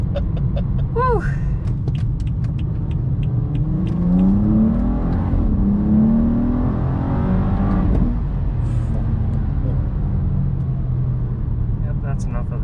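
A BMW 435i with VRSF bolt-ons and BootMod3 tuning accelerating hard: a loud, sustained engine roar with rising revs inside the cabin, with people talking and a whoop over it.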